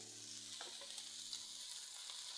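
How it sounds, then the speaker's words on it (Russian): Onion, paprika and zucchini frying in a pan give a faint, steady high sizzling hiss that runs throughout, with a few soft low clinks early on and no speech. "Мне нравится, как поджарился лук, я добавляю паприку и цукини."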